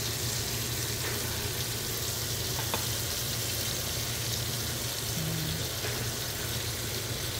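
Beefsteak sizzles and fries in a pan with a steady, close hiss that continues without pause, joined by a few faint clicks and knocks.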